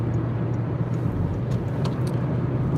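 A car drives on a long curvy road in Finland while overtaking a trailer, producing a steady, close low engine and road rumble with continuous tyre noise.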